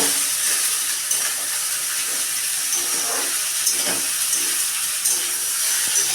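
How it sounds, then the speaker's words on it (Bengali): Potatoes frying in hot oil for a bitter gourd curry give off a steady, bright sizzling hiss that holds evenly throughout, with faint stirring knocks now and then and no voices. "যেহেতু উচ্ছে চচ্চড়ি একটু আলুটা ভাজতে লাগবে।"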